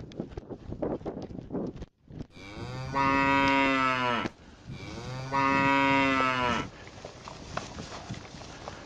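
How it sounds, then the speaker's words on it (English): Cattle on a farm low loudly and close by in two long, drawn-out moos, with brief rustling and handling noise before them and after them. "Cow."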